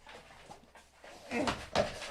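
A dog whimpers and whines in short, restless bursts, with a sharper high whine near the end, heard close by in an indoor event setting.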